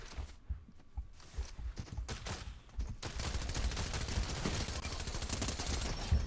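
SMG fire in Fortnite, a few separate shots at first, then a long rapid automatic burst that rattles on steadily to the end, loud and close.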